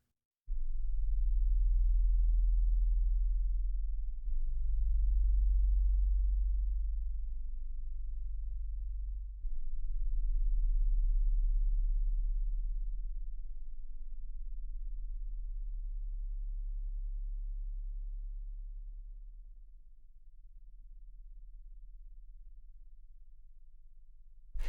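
Deep synthesized sub-bass tones from a 1994 Q-Up Arts sample collection, a sustained low rumble that swells and fades in long loud phrases, with no other sounds.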